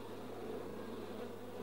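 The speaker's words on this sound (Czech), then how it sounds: "Slétávají se do roje, Májo." A cartoon bee swarm gathering in flight makes a steady, dense buzzing drone that holds evenly throughout, close and continuous, with no voices.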